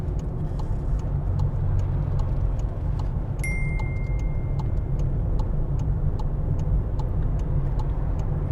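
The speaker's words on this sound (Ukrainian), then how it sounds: "Знижаю передачу, знижаю швидкість та ставлю другу передачу." A car engine hums steadily as it slows in second gear on an exam-route road before a U-turn, with a faint regular ticking of the indicator throughout.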